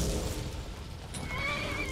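Horse in the Skyrim video game letting out a single loud neigh and whinny, close and clear over a low game background.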